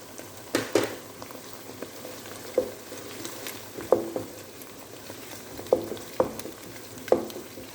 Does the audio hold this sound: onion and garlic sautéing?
yes